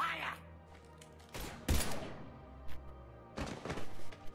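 Scattered gunshots and thuds in the Mass Effect 3 video game, with a sharp loud burst near the middle and another cluster of shots toward the end, separated by quieter gaps with a faint background hum.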